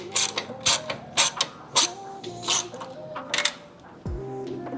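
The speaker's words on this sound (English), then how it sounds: "I'm going to get that loosened up just a little bit, slid back into place, and get that joint secured." Ratchet clicking in short repeated bursts while tightening the turbo inlet clamp on a Subaru WRX, close and crisp, with brief pauses and a small metallic clunk near the end.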